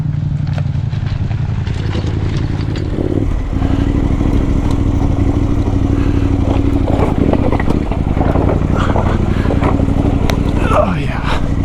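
KTM 390 Adventure motorcycle climbing a rough, rocky mountain pass, its single-cylinder engine droning steadily and loud throughout, with gear clatter and rock knocks on top.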